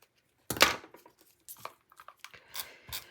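Paper is cut for a scrapbook layout with a jumbo wavy square frame, giving a few crisp, close snipping and crinkling bursts separated by short silences.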